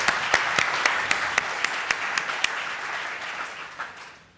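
Conference audience applauding after a presentation at a vision technology competition: a steady wash of applause with a few distinct sharp claps standing out, gradually fading away over about four seconds.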